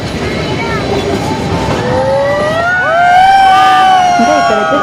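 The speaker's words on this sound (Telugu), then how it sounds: "ఊటీకి వెళ్ళి ఇలా టాయ్ ట్రైన్ ఎక్స్పీరియన్స్ చేశారా" The Ooty toy train runs along its mountain track, a loud continuous rumble with rising and falling whistle-like squeals from the wheels and horn, close and steady throughout.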